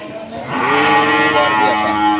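At an animal market in Aceh, a cow lets out one loud, long, close moo that swells after a short pause and holds steady, with faint crowd noise underneath.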